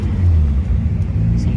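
A 650 hp Toyota IS300 drag car with slick rear tires idles nearby, giving a deep, steady low rumble that briefly swells, with a voice faintly mixed in.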